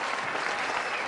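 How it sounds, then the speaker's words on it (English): Canned applause from a sound effects program, a dense steady patter of many hands clapping, loud and unbroken with no voices. "I got people clapping."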